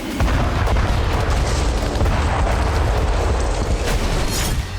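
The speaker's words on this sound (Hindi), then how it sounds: "रिपोर्ट के मुताबिक ये जेडैम बम का धमाका है।" A massive, sustained JDAM bomb explosion roar rumbles continuously with deep booming low end and crackling texture, loud throughout, in wartime Ukraine.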